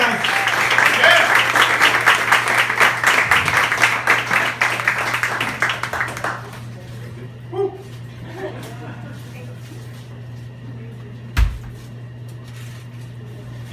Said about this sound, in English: give a warm round of applause for your next comedian, Jay Hunter.